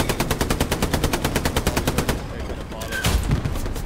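Machine gun fire in the Hell Let Loose World War II shooter, a fast regular burst of about twenty close shots lasting two seconds, then rumbling battle noise.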